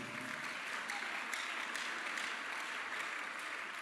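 A church congregation breaks into dense, sustained applause and cheering that fills the room evenly for several seconds, with voices mixed into the clapping.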